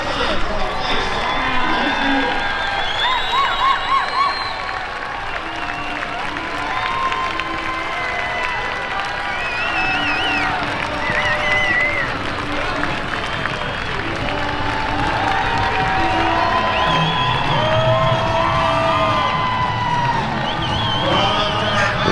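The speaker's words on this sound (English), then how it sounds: "We need a cheer because it's victory gallop time for our five-star Bainbridge winner." A crowd cheers, whoops and applauds at an outdoor five-star show jumping Grand Prix during the winner's victory gallop. The noise runs steadily for the whole stretch, with a public address voice talking over it.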